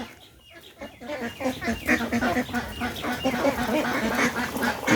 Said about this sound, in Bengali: এই যে দেখেন এই যে হাঁস এগুলো এই বছরের বড় বড়